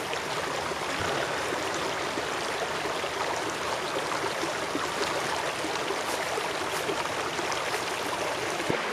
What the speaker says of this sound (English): the sound of the creek here is awesome